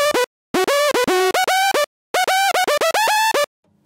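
Two layered synth lead sounds play a choppy melody together, bright buzzy staccato notes in short bursts with brief gaps, close and clear with no voices.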